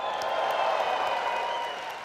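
Audience applause at a leaders' seminar: a dense, steady wash of many hands clapping at an even level for about two seconds, easing slightly at the end.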